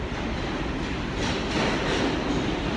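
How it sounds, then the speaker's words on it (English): A subway train rumbles past, a dense steady roar with a swell of clattering wheel noise midway, loud and close, with no voices over it. "It's the subway, you gotta love it."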